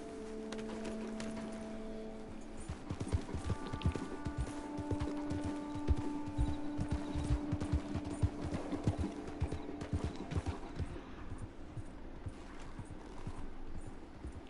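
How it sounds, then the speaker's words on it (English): Steady clip-clop of horse hooves in Red Dead, with tonal hums in the background, the hoofbeats continuing evenly and fairly close throughout. "a handful of horses and a buggy"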